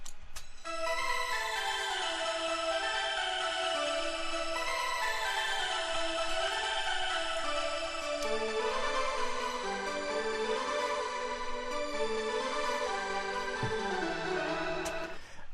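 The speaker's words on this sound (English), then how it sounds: "it sounds like a very epic kind of bell" An epic synth bell with long reverb plays a slow descending melody in a Zelda-inspired techno remix, bright layered tones sustaining continuously and steadily at moderate level with no voices.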